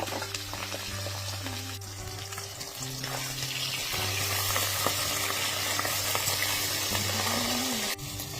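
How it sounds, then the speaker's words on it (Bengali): Pabda fish fry in mustard oil with a green chilli in a wok, a continuous close crackling sizzle that swells slightly midway, over a low steady hum and without voices. "মাছগুলো এবার ভেজে নেব"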